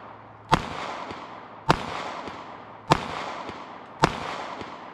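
Four sharp, evenly spaced shots from a Taurus Model 85 .38 Special revolver firing mild lead round-nose reloads at a range, each crack loud and close with a brief echoing tail.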